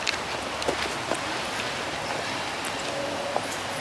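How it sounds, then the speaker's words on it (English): Rain falls steadily outdoors at a car meet, a constant broad hiss with scattered soft taps and drips, with no voices. "It's a rainy day"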